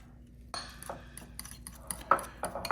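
A spoon clinks and scrapes against a bowl while caviar is stirred into chip dip, with several sharp metallic taps and soft scrapes heard close up and no talking.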